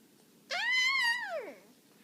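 A voice imitates a kitty cat's meow: one drawn-out, rising-then-falling meow lasting about a second, clear and close against a quiet background.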